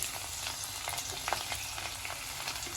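Onion and green chilli hit hot oil in a tadka for Punjabi kadhi, giving a steady, close sizzle and crackle that runs unbroken throughout, with small pops and no talking.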